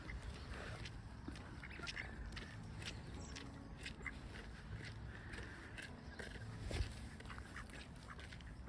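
Ducks quacking repeatedly in strong wind on a Norwegian shore, a scattered series of short calls at moderate distance over steady wind noise.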